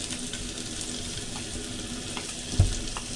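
Garlic and onion sizzle in hot oil in a pot for a home-style mutton stew, a steady close frying hiss with one brief clatter near the end and no voices.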